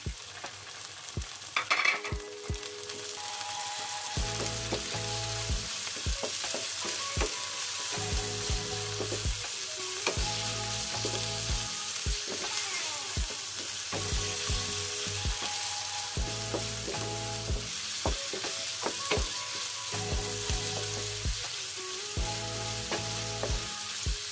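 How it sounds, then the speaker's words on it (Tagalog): Thinly sliced chicken sizzles in a pan with sautéed onion and garlic, a steady frying hiss with repeated stirring scrapes and clanks throughout. "So ilagay ko na yung aking chicken."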